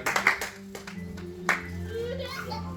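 Church congregation clapping and applauding the Lord during a service, a burst of claps at the start with scattered sharp hand strikes, amid murmuring voices and children's chatter.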